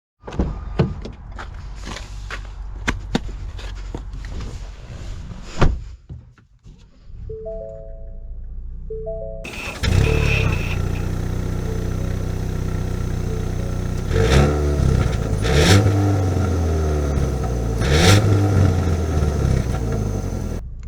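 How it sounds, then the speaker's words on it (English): A 2022 Ford Maverick Lariat pickup truck gives a few soft chime tones, then its engine starts and settles into a steady, close, fairly loud run with some rising revs as it drives off, with no talking. "Let's take her out and see how she drives."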